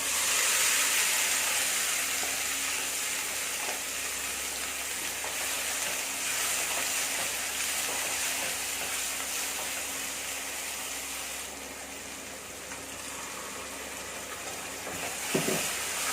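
Curry leaves and radish chutney sizzle steadily in a hot mustard seed tempering, a continuous close frying hiss with light stirring throughout and no talking.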